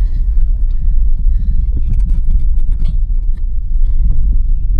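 An old kol minibus rumbles past on a village road in Madura, a loud, close, steady low engine drone with road noise that holds for the whole stretch, with no one talking.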